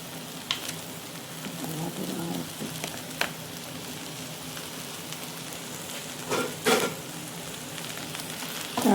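Cooked, drained vermicelli and green peas sizzling and frying in a pan while being stirred, a steady crackling hiss with occasional scraping knocks, close and fairly quiet.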